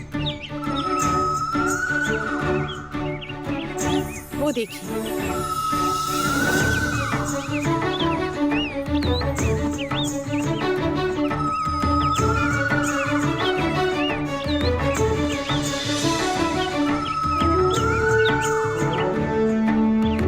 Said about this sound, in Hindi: पक्षियों की मीठी आवाज।